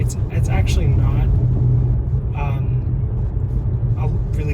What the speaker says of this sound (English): You can really hear the tires a lot more than you would in a standard car.